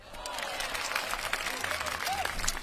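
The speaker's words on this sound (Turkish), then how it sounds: "yürekten alkışlıyorum" Applause and crowd noise during a Turkish radio show, a moderate clapping patter with a voice talking over it.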